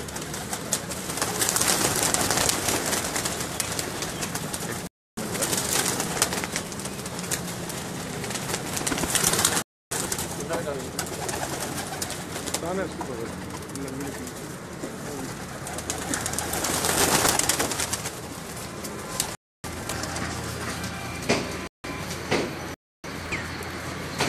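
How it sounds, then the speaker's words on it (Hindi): Pigeons kept by a fancier in Gujar Khan, giving a continuous murmur of cooing and soft bird calls at moderate level, broken by several short gaps of silence. "ये जो कबूतर आप उस्ताद चौधरी मोहम्मद आरफ के हाथ में देख रहे"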